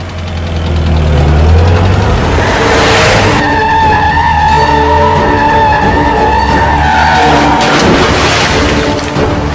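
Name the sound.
car starting and driving in a movie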